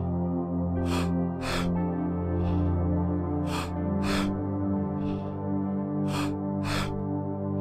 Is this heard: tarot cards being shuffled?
no